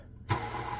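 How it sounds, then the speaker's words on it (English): Electric stand mixer starts up abruptly and runs with a steady whirring motor hum while mixing bread dough of flour, water and dry yeast, loud and close, no talking. "we're going to turn the mixer on"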